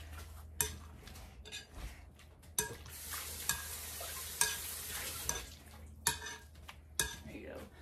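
Roasted pumpkin flesh being mashed in a bowl, soft squishy strokes with occasional sharper utensil knocks against the bowl, in a home kitchen with low background hum.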